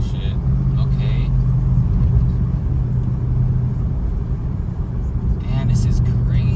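A 510 hp Mercedes C63 AMG W204 V8 rumbles steadily from close by with a deep, constant engine drone and mild surges, no voices heard over it.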